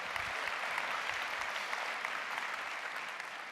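Steady applause from a crowd, a dense continuous patter of clapping that holds at an even level throughout.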